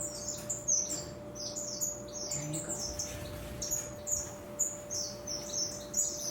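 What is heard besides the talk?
birds chirping in an aviary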